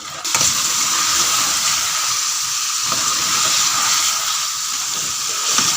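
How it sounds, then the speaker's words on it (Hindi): Yogurt and turnip meat frying on high flame, a loud steady sizzle and hiss of liquid hitting hot fat, continuous and close with faint stirring scrapes, no talking. "इसमें अब हम दही को शामिल करते हैं और इसको 5 से 10 मिनट तक हाई फ्लेम पे हमने अच्छे तरीके से भूनना है"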